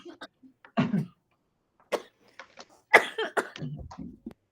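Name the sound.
woman coughing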